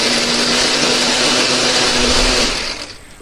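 A blender runs loud and steady, grinding a thick spice paste with added water or oil, then winds down and stops near the end.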